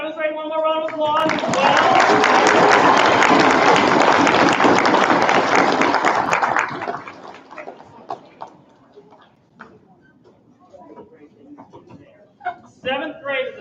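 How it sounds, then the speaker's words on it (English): A burst of loud, dense audience applause at a school choir concert swells and holds for several seconds, then fades into scattered claps and murmuring voices. "Can we give this demonstrator one more round of applause?"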